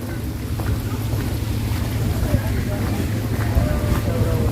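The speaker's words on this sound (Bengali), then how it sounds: "বাতাস, সুশীতল বাতাস।" Steady wind rushes across the microphone outdoors on the bank of the Padma River, a continuous low rumble with faint background activity throughout.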